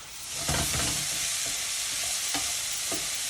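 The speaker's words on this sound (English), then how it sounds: "we're going to give that a nice little stir" Cumin and smoked paprika are stirred in a frying pan while a shakshouka base sizzles steadily underneath, with a few distinct scrapes of the spoon against the pan rising above the hiss.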